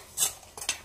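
Cookie dough for chocolate praline shortbread being remixed in a bowl with a utensil: three quick scraping, clinking strokes, close and fairly quiet, without speech.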